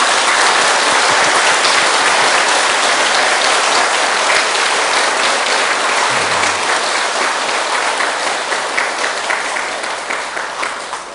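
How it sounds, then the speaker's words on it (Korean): A Buddhist dharma talk audience claps together to celebrate finishing a book of study, a dense, loud burst of applause that holds steady for about ten seconds before gradually thinning and fading. "책 한 권을 떼었으니까 책거리 하는 박수를 한번 치세요"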